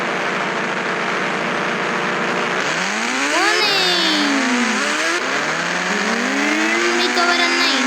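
A motorbike engine in the video game Indian Bike Driving 3D drones loudly, then revs up and down in rising and falling sweeps, close and continuous.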